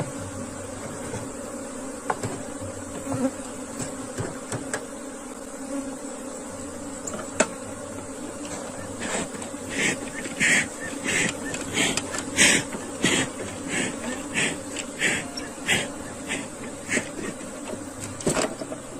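Honey bees swarm around a recently split hive, making a steady, close droning buzz throughout, with a few louder individual bees passing near the listener and no talking.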